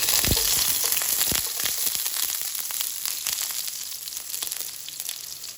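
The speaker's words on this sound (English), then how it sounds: "Here we need to wait until the pot is very hot. Then we put the garlic and pepper inside first." Garlic and pepper hitting a very hot oiled pot, a loud crackling sizzle with sharp pops at the start that settles into a steady, slowly fading frying hiss, close up with no talk.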